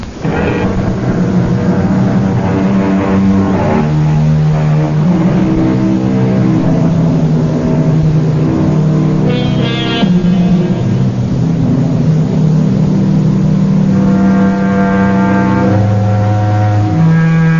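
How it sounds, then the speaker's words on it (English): A finely tuned sports car on a deserted highway near midnight, a radio-drama effect: a sustained engine drone with a shifting, keening pitch that holds at a steady, fairly loud level throughout. "Off in the distance, we hear the keening of a finely tuned sports car. It grows louder as the car approaches."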